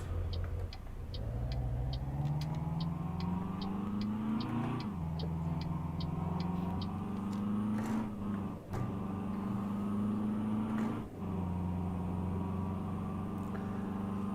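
A minibus engine in Euro Truck Simulator 2 pulls away from a stop, a steady loud drone that rises in pitch through the gears, with short dips at each shift and a faint regular ticking over it.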